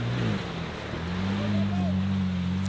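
A Ford Bronco Raptor's V6 engine drones in a steady, throaty low rumble with wind-like noise over it, its tone shifting slightly as it revs.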